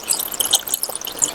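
Water is added to tamarind pulp for homemade panipuri water: a close, steady splashing trickle with soft bubbling, with no talking.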